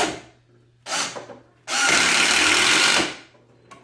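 A hammer drill running in short bursts, first two brief rattling runs, then a longer sustained hammering whir for over a second before cutting off, loud and close with no talk.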